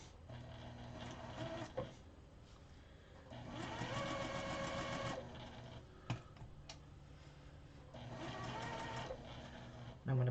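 A sewing machine stitches a quilt along a marked line in three sustained runs of steady mechanical whirring, with quiet pauses and a few clicks between runs.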